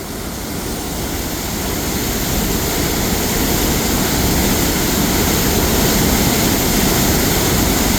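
Water roars in a loud, steady rush as it pours over the Clearwater Lake spillway, a constant broadband wash with no pauses.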